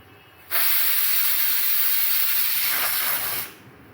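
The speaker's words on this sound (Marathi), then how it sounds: "मोठ्या गॅसवर इथं मी एक सिट्टी होऊ दिली आहे" A pressure cooker on a high gas flame vents a loud, steady rush of steam for about three seconds, starting abruptly and tapering off, with no voices.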